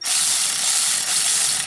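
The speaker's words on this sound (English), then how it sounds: "Got my little ratchet." A small hand ratchet turns 8mm bolts on BMW brake pad hardware, giving a steady, dense metallic clicking that runs without pause, close and fairly loud, with no talking.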